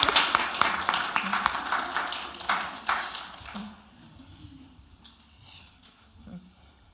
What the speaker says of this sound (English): I invite you all to give a round of applause